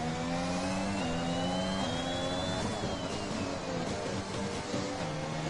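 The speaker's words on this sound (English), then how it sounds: "he's playing a lot with the gears, trying to get the rotation in the car" A racing car engine revs hard with drops and rises in pitch as the driver works through gear changes, loud and steady throughout with no talk.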